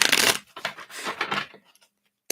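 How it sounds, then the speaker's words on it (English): Tarot deck being shuffled by hand, a dense riffle of card flutter followed by a few shorter bursts and one sharp final snap, close and clear with no talking. "And then we'll shuffle it one more time."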